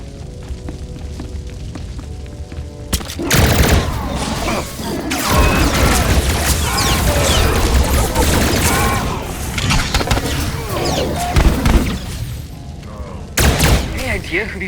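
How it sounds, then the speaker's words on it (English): Gunfire and explosions from a battle on Onderon in Star Wars: The Old Republic, a loud dense barrage of blasts and mechanical clatter lasting most of the stretch, with quieter ambience before and a brief renewed burst at the end. "You're heading for the explosions?"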